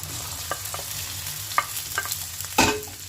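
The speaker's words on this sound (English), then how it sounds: "then start to fry the okra" Okra frying in hot oil over medium heat, a steady close sizzle with soft stirring scrapes and a few sharper clinks and pops, one louder burst near the end.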